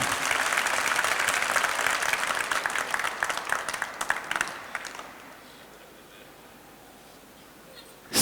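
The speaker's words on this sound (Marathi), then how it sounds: "एकदा टाळ्या ऐकू द्या इथपर्यंत" A seated audience at an inspirational speech bursts into loud, sustained clapping that thins out and fades to near quiet after about five seconds.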